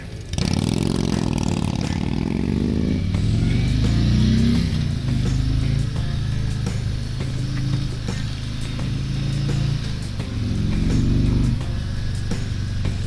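A 2021 Harley-Davidson Tri Glide Ultra trike engine rumbles on the road, the V-twin revving up and shifting through gears with rising and falling pitch, steady and close under wind noise.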